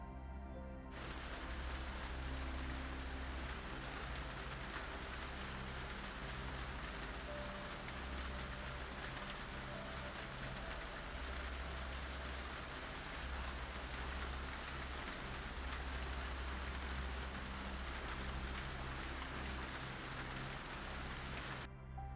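Steady tropical rain pours down in a dense, even hiss, a continuous close wash with no breaks and no voices.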